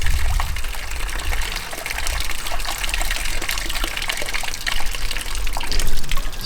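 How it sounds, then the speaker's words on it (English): Water from a garden hose running into the top of a Toyota KE70 Corolla radiator to flush rust out, a close, continuous gushing trickle with splashy fluctuations and no talking. "we just got a hose in the top of the radiator, flushing a little bit of rust out"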